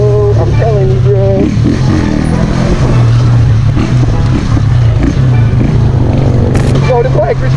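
A Jamco 150cc motorcycle on a first ride drones steadily close by, its engine rising in pitch under acceleration, while a rider's voice talks over it in bursts.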